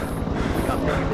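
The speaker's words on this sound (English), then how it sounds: "I feel so safe knowing I got a helicopter over here" Helicopter in the alien horror game They Are Here, a close, loud rhythmic rotor thump with steady engine roar throughout the brief stretch.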